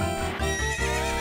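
A horse neighs in the video game The Legend of Zelda: Ocarina of Time, a loud, close whinny that runs through most of the moment with faint clip-clop hooves beneath it and no talk.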